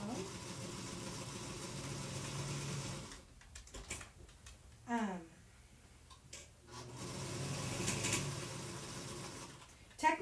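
A sewing machine hums steadily as its foot pedal is pressed, running in two stretches separated by a pause. Soft speech and faint handling noises fill the quiet gap.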